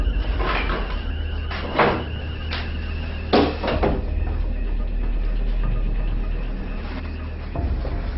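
A door in an urban building is handled for a forced entry, with a few sharp scraping knocks and creaks of the door moving over a constant low background hum, fairly close.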